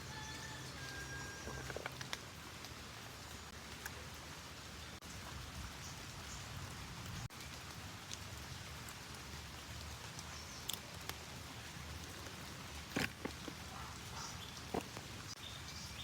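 Steady rain falls outdoors in a fruit garden, a soft continuous hiss of drops with occasional sharper patters and taps, even and unbroken, with no voices.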